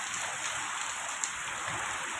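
Heavy rain driven by wind pours down in Gariyadhar district, with water pooling in a yard, making a steady, dense hiss that holds evenly throughout with no voices.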